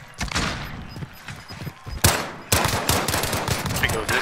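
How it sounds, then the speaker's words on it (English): Gunfire in a Call of Duty match, rattling automatic bursts heard at a distance that build into a denser, louder volley partway through. "Shooting. Far up there."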